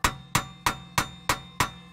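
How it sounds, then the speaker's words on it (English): A hammer taps the rear axle inside the wheel hub of a 2011-2020 Toyota Sienna AWD during wheel bearing work. Six sharp metallic clanks land close to the mic at an even pace, each ringing briefly before the next strike. "So we'll tap on it with a hammer."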